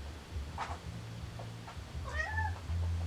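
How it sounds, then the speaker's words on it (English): A cat meows twice, a short call and then a longer, wavering one, fairly close over a low background hum. "That's my cat. He wants attention,"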